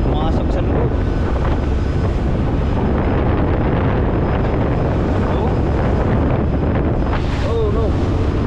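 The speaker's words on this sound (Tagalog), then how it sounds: "Ang lalakas ng alon" Heavy waves and strong wind batter a small motorized boat at sea, a dense continuous roar of surf, spray and gusting wind buffeting the microphone, with brief excited voices near the end.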